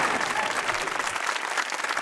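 Studio audience at a Pakistani comedy talk show claps throughout, a dense, steady wash of applause with crowd noise, loud and continuous from start to finish.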